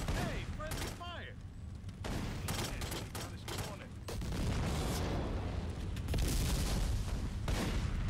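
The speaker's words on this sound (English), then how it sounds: "Who are they shooting at?" Dense, sustained video-game gunfire rolls on with overlapping shots and booms, loud and continuous, while voices briefly call out over the opening seconds.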